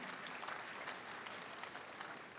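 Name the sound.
audience applause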